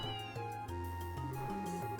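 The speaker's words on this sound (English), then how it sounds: "it's always good to see my favorite kitty" A cat meows in the video game Legend of Heroes: Trails in the Sky SC, a short high call heard over steady game background music.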